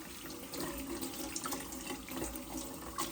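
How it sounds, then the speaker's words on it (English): A tap runs steadily into a sink, faint and continuous, with light clinks as an espresso machine's drip tray is rinsed under the stream. "I'm gonna wash it with warm and soapy water."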